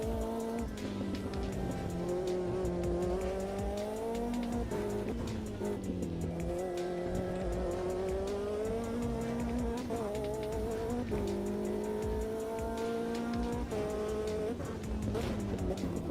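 A race car in Automobilista 2 drives hard with its tail swinging, engine droning steadily and rising and falling through gear changes, with tire squeal and skidding under the loud, continuous motor, close and alone.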